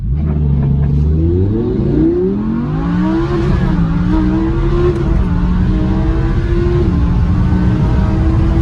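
An Audi R8 accelerating hard: a loud, close engine revs up through the gears, its pitch climbing, dropping at each shift and climbing again, with a roaring exhaust tone throughout and no voices.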